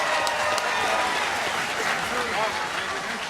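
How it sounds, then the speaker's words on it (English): An arena crowd at a bare-knuckle fight night applauds and cheers the two fighters in a steady, dense wash of clapping and crowd noise that lasts throughout, with an announcer's voice over it. "let's have a big round of applause for these two warriors"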